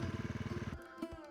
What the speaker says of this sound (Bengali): আর বাইকের ইঞ্জিনের গর্জন।